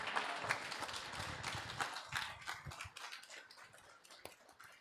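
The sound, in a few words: audience applause at a memorial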